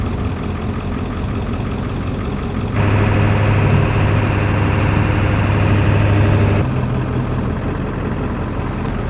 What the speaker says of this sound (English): I think the bike's having a rough time with that little bit of fuel in it.